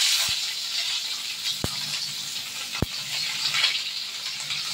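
Bay leaf and tempering spices frying in mustard oil in a wok, a steady hissing sizzle with a few sharp clicks from the pan.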